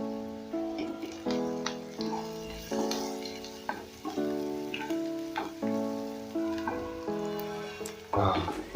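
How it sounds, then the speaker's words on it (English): Garlic and spices toasting in a hot pan for egg biryani, a steady close sizzle with stirring scrapes underneath, while a voice talks over the cooking throughout. "So I'm going to go in with my garlic, and then I'll go in with my other spices so that I can also toast them equally."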